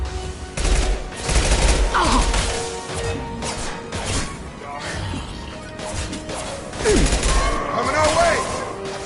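Gunfire in the video game Mass Effect 2 Legendary Edition, loud sustained bursts of shots mixed with crashing impacts and whooshes, with shouted voices over the battle.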